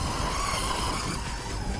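Steady broadband motor whine with gritty tire noise, an LRP S10 Blast BX2 4WD brushless RC buggy driving continuously close by without pause.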